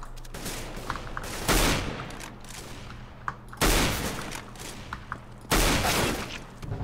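Gunfire in a video game: three loud, close bursts of rapid shots roughly two seconds apart, with quieter background game noise between them.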